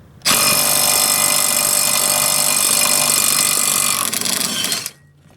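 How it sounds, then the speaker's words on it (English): A cordless Ingersoll Rand W5330 3/8-inch right angle impact wrench, fitted with a 3/8 to 1/2 inch adapter, hammers loose a nut in reverse with one loud, continuous rattling burst lasting several seconds before cutting off abruptly. "I'm going to now use the W5330. I'm going to reach under here, place it on that nut."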